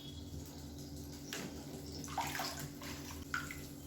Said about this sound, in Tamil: இப்போ தேவையான அளவுக்கு புளி தண்ணி சேர்த்துக்கலாம்.